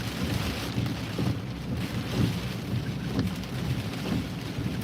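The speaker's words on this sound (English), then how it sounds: "It's pouring." Heavy rain from a thunderstorm in Massachusetts pours down on a vehicle in a dense, steady hiss with a low rumble underneath, loud and continuous with no voices.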